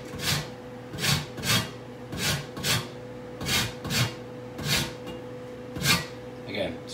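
Citrus peel being zested on a grater, a rhythmic series of rasping strokes repeated about twice per second over a low steady hum, fairly close and moderately loud.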